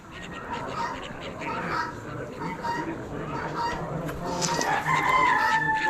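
Roosters crowing at a bird auction among hens, with a loud drawn-out cock-a-doodle-doo rising near the end over scattered clucks and a murmur of background chatter.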